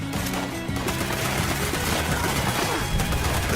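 An explosive weapon firing at enemies in Fallout 76, giving a dense continuous barrage of rapid blasts and crashes that stays loud from start to finish with no pauses.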